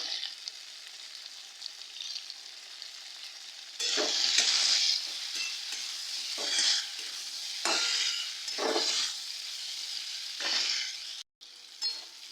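Amla pieces frying with a little turmeric in a pan, a steady sizzle with louder bursts of stirring and scraping coming and going, close and without talk.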